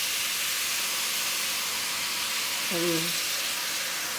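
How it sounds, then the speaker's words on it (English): Beef browning in a stew pot hisses with a constant steady sizzle throughout, while someone speaks briefly near the end. "while our beef is browning, we're going to add just a little beef broth"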